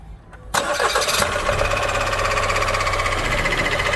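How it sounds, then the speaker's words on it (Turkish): An Opel Astra K engine cranks briefly, then catches and roars to life, settling into a loud, steady idle up close. "aşağıdan marşına basıyoruz"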